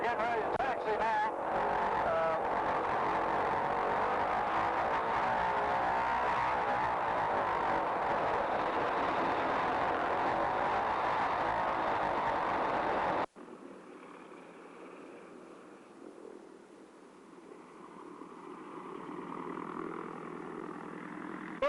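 Radial-engine airplane idling before taxiing, a loud rough engine roar dominating the first part, then dropping to a quieter rumble with people talking nearby.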